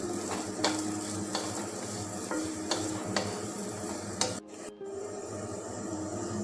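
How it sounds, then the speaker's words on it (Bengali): Carrots frying lightly with sugar in a pan, a continuous sizzle with regular scraping strokes of a spatula, ending in a brief pause before the sizzle resumes; no talking. "গাজরটা আমি দু মিনিট ফ্রাই করে নিলাম"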